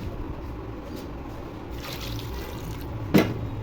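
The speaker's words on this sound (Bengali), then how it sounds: "ভালো করে মেখে পানি দিয়ে দিব" Water is poured into a pot of mashed sweet pumpkin mixed with mustard oil, a quiet trickling fill ending in a short louder splash near the end.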